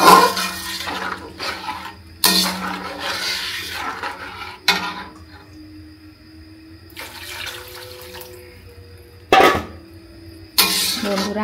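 Water pours into a pan of taro for boiling, running in several loud bursts separated by quieter gaps, with faint clatter of the pot between pours.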